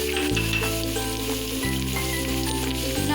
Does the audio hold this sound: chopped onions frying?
yes